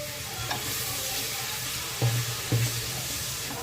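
Water poured into a pan of frying spiced brinjal, a steady soft sizzle with a few short louder bursts and stirring sounds near the end.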